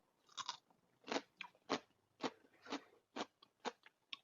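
Homemade pickled mustard greens are chewed close up with crisp, wet crunches in an irregular rhythm of about a dozen bites, quiet and alone with no talking.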